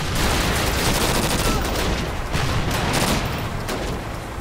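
Dense, loud rifle and automatic gunfire from the World War II shooter Call of Duty: United Offensive, a continuous fusillade of overlapping shots with explosions in the mix.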